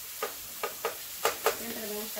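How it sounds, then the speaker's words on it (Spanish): Tomato, chili, onion and garlic frying in a pan for stuffed chiles, heard as a handful of soft, separate stirring scrapes over a faint, steady sizzle, fairly quiet and without any voices. "Aquí está friendo el tomate, chile, cebolla y ajo, dice Rosita."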